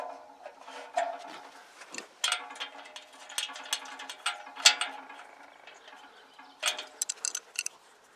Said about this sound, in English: just tighten up on these little jacking bolts, just so this thing sits tight